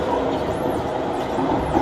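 A Singapore metro train pulls into City Hall station, its steady loud rumble and rolling wheel noise filling the platform without a break.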